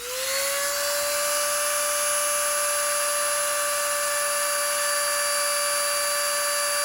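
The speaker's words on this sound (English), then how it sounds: "I am going to very gently drill into that" A small high-pitched drill whines steadily and continuously at close range as it drills into a toothpick, with a bright sustained tone and no other sounds.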